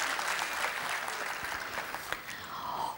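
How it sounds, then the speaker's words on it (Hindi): Audience applause at a golden jubilee ceremony, a dense steady patter of many hands clapping that holds level from start to finish with no voices. "मैं चाहूंगी एक जोरदार तालियां होनी चाहिए आज के समारोह के लिए, हमारे सभी मंचासीन अतिथियों के लिए।"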